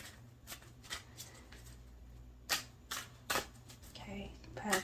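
Tarot cards are shuffled in a run of sharp riffling bursts that come at irregular intervals, separated by softer handling sounds, all close and fairly quiet.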